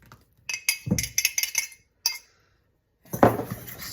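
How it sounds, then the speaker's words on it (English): Melted butter stirred into crushed graham crackers for pumpkin cheesecake bars, giving clinking utensil-on-bowl scrapes in quick bursts, a pause, then a louder stretch of scraping and clatter near the end, with no talking. "Stir that around to incorporate them very well."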